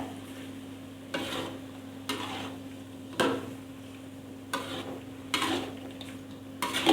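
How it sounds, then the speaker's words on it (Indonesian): A spatula stirs plump squid with gendot chilies in a hot pan, giving about six scraping strokes at irregular intervals over a low, steady sizzle. No one speaks. "Kita terus aduk"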